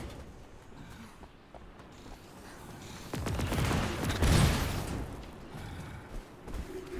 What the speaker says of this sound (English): Turrets.